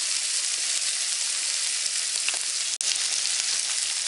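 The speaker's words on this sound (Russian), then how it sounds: "Лук вот чуть-чуть обжарился." Onions sizzle steadily in a hot pan, a bright continuous frying crackle with one brief tap partway through, close and alone.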